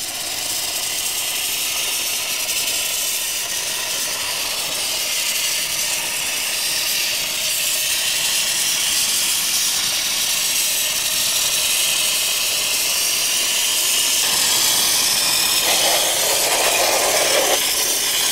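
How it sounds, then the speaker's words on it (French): A steam cleaner gun sprays steam onto an indoor air conditioner unit, a loud, continuous hiss lasting many seconds, roughening slightly toward the end, with no talk. "tu vois le pistolet, il crache de la vapeur."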